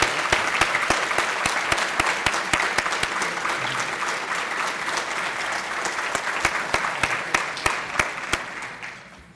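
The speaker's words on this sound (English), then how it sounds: "So please join me with a big round of applause." A banquet audience at a school academic excellence awards event applauds. The clapping is sustained and fairly loud, with distinct individual claps standing out, and it tapers off toward the end.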